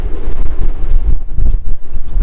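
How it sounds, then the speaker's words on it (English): Strong wind buffets the microphone on the open deck of the Majestic Princess cruise ship, a loud, rumbling, gusty roar filling the low end with brief lulls. "It's pretty windy."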